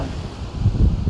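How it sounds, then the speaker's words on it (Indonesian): Strong wind blowing across a fishing boat harbour at Kampung Matras, Bangka, a steady low rushing roar that buffets the microphone and swells louder toward the end, with no voices. "Karena kondisi angin kencang, jadi tidak ada nelayan yang turun ke laut pada hari ini."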